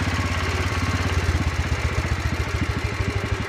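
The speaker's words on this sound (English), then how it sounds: "I'll park the tractor" A Wheel Horse C-81 garden tractor running, its small engine chugging in a steady rapid rhythm with mechanical clatter, close and loud.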